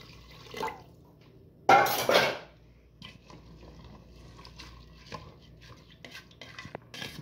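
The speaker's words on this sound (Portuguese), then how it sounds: "aqui eu vou botar um pouquinho a água." Water is poured into seasoned rice in an electric pressure cooker pot, a short splashing gush followed by clinks of a utensil against the pot and faint stirring and dripping in a quiet kitchen.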